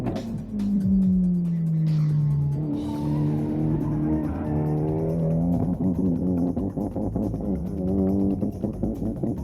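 A Mitsubishi street car pushed hard on a hot lap, its engine roaring loud and close as it revs up through the gears, with tire squeal and skidding over steady engine drone.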